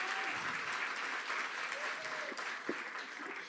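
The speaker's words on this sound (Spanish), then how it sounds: "recibamos con un fuerte aplauso a Gigi otra vez" Steady applause from an audience at a panel discussion fills the whole stretch, sustained clapping with a crowd murmur beneath it.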